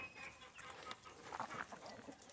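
Backyard homestead chickens cluck and murmur softly nearby in short, scattered calls amid outdoor rustling.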